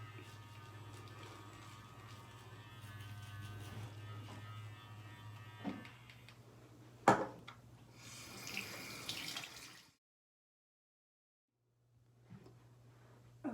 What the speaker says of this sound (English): I just rinsed it off of my face